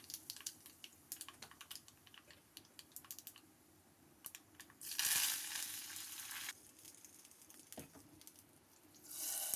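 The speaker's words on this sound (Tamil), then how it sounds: "கடுகு, வெந்தயம், பெருங்காயம், கருவேப்பிலை தாளிச்சிட்டு நம்ம அந்த வெந்த பருப்பில் எடுத்து போட்டுக்கலாம்" Mustard seeds, fenugreek, asafoetida and curry leaves temper in hot oil, starting as scattered quiet pops and crackles, then bursting into a loud sizzling rush that fades and flares again near the end.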